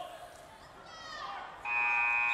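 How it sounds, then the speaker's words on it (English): A period-end buzzer at a varsity high school wrestling match sounds, a steady electronic tone starting partway through and held loud to the end, over faint crowd noise. "at the buzzer, the period will end."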